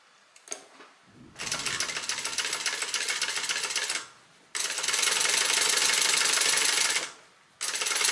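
A sewing machine top stitching a slip pocket on a bag panel runs in two long, steady bursts of rapid mechanical stitching, each ending abruptly, with a few light clicks before the first and a short restart at the end.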